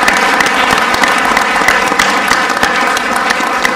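An audience at an awards ceremony claps steadily and loudly, dense applause from a full room holding an even level throughout without voices.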